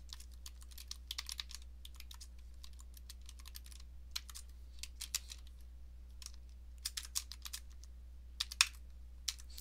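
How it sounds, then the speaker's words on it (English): Computer keyboard typing during data entry in SAS statistical software, a steady run of quick light key clicks, soft and close, with no talking. "you have to type the column headers exactly as you see them"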